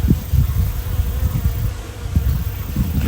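Bees buzz steadily around flowering salvias in a summer garden, a close, continuous low drone with slight wavering, no talking.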